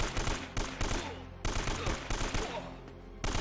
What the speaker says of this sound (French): Je leur balance 50 balles, ils sont pas morts.